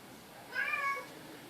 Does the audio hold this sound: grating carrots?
no